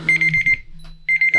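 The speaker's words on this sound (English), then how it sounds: "Oh, I think that's his alarm" A timer alarm beeps in quick repeated electronic pulses, about six in a row, then a brief pause before several more, loud and close inside a house reputed to be haunted.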